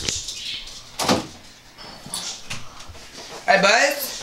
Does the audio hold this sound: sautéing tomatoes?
no